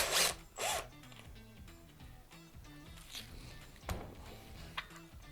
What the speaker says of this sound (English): For that, we'll need a 15mm socket.